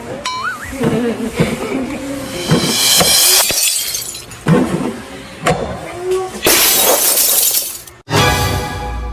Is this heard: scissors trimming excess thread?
no